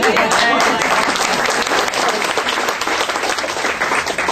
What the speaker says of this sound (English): Applaud Michael